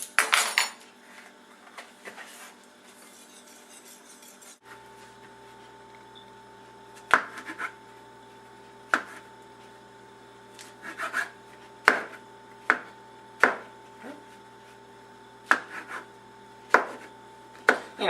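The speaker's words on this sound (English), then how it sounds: "Chop means into some tinier pieces" A knife chopping food on a board, sharp isolated knocks arriving irregularly, then in quicker bunches toward the end, over a quiet steady hum in a kitchen.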